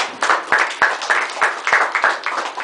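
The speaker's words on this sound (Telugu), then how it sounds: "clap for him" An audience applauds a student with a burst of close, lively clapping, irregular individual claps merging into a continuous patter throughout.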